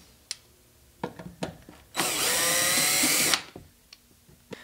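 A power screwdriver backs out screws from an amplifier chassis: one loud whirring burst of about a second and a half, close up, with light clicks and handling knocks before and after.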